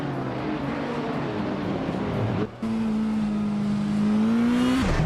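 A 1997 Vector M12 ASR racing car in a racing video game holds a steady, droning engine note that briefly cuts out, then returns at a higher, sustained pitch before dipping near the end.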